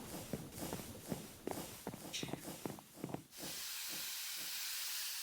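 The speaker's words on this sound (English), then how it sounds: "That's a boiler. That's the steam engine of a boiler." Steam boiler engine in the Minecraft Create mod, heard as a rhythmic series of chuffing, hissing puffs that give way to a steady, continuous hiss of steam.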